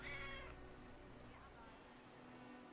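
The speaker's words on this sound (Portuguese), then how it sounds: "Ó um gato, velho." A cat meows in the video game Brothers: A Tale of Two Sons, one clear close meow at the very start that fades into quiet game ambience.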